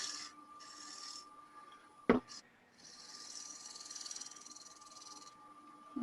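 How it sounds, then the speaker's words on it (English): Gentle scraping cut on wood with a hand tool during a flat plate demonstration, a soft steady rasp running through most of the stretch with one sharp knock near the middle. "I'm going to close the face and just be a little bit of a scraping cut. I'm not trying to take a whole lot of wood."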